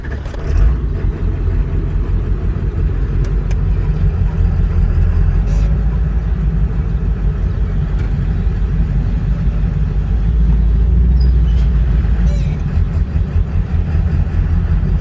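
A Ford 7.3 Powerstroke diesel truck rumbles steadily while driving, its low engine drone and road noise continuous and close throughout with no pauses.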